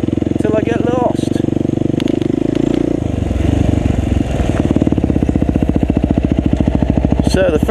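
KTM 400 EXC enduro motorcycle ridden along a senior enduro course in Fang, Thailand, its engine loud and close, changing pitch through gear changes and then settling into a steady, rapid throb. Someone talks over the engine.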